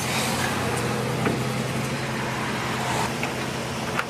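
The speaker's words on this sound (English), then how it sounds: "he's going to bring the car a little closer." A car idles and rolls in nearby, its low engine hum steady beneath broad roadway traffic noise, with a few faint clicks and no clear voices.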